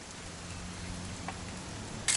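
Rain pouring in What Remains of Edith Finch, a continuous soft wash with a low steady hum beneath, one small tap midway and a brief louder knock at the very end.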